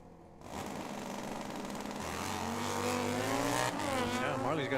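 A Buell and a Kawasaki ZX 1100 drag racing motorcycle launch down the strip at a Tucson dragway, engines rising sharply in pitch as they accelerate, loud and close, with a voice speaking faintly under the roar.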